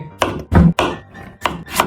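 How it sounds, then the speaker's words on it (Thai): A knife chops peeled, halved papaya into small pieces on a board, giving five or six sharp, close thuds at an uneven quick pace with brief gaps between cuts and no talking. "เสร็จแล้วก็เอามาผ่าครึ่งแล้วก็หั่นให้เป็นชิ้นเล็ก"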